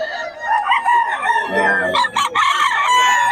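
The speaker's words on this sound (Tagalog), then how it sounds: "Manok ni Boss Jun mga idol" A rooster crows loudly and close by, its long drawn-out call filling the moment, with other fowl clucking faintly in the background.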